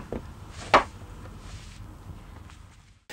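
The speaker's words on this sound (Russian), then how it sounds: "Ставлю стакан на стол." A glass of vodka set down on a table makes a single sharp knock early on, then only quiet room noise follows.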